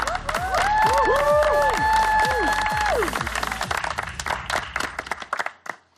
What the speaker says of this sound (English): why don't we give them another round of applause?